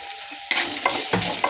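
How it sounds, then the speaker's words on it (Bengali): Masala sizzles in hot oil for a liver bhuna while a spoon stirs it. A continuous close frying hiss is broken by several scraping stirs at a steady rhythm, with no voices. "মশলাটা দিয়ে একটু নেড়ে চেড়ে নিচ্ছি।"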